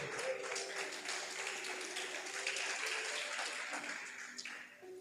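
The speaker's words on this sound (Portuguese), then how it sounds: "aplaudindo e glorificando o Senhor" Congregation applauding together in a church service, a steady, dense wash of clapping held at an even level throughout, with faint voices mixed underneath.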